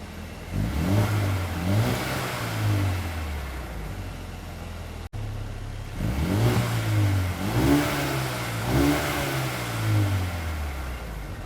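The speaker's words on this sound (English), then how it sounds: "Now as for the sound of those sport exhausts, well guys, I was a little bit disappointed with the sound" Sport exhaust on a Mercedes-AMG A35 revs in two bursts, each rising and falling through several quick throttle blips, moderately loud and close, with a brief break between them.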